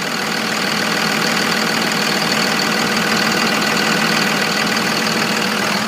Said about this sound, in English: fully serviced Cummins Diesel right here.